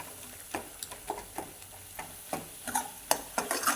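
Potato curry being stirred in a pan with homemade black masala, turmeric and mutton masala: soft scraping strokes repeat every half second or so, with a light sizzle underneath and a few sharper clicks near the end.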